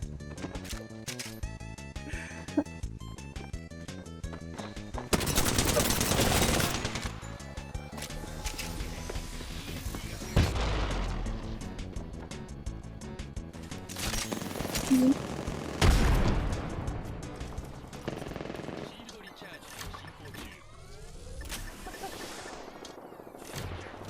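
Gunfire in the battle royale video game Apex Legends comes in several bursts of rapid automatic fire over busy game sound and music. Loud sustained volleys alternate with quieter stretches and occasional impacts, and some voices can be heard in between.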